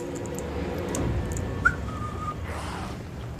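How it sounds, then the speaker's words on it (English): A person whistles while playing Alan Wake, a brief faint whistle over steady game sound and low background noise. "That was a terrible whistle."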